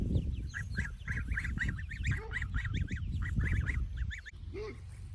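Many chickens call at once in a busy flock, repeated honking clucks overlapping steadily and fairly loud, a deep rumble underneath.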